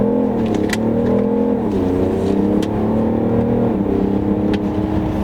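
A BMW X5 sprints hard from standstill toward 100 km/h, engine note climbing in rising sweeps that drop and climb again at each gear change, loud and steady from inside the cabin.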